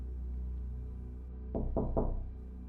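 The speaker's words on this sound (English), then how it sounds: "3 more knocks. They sounded hurried now." Three quick knocks on a wooden door, hurried and fairly close, rise over a low steady storm-like rumble on a winter night at a country house.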